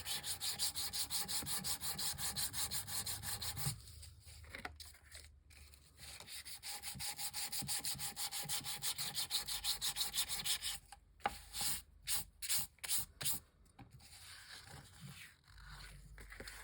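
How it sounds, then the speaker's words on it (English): Steady dry rubbing and scraping of sandpaper on dry printed photo paper, continuous at first, then breaking into short repeated strokes with brief pauses. "This one's more dry, so it's sanding a lot easier."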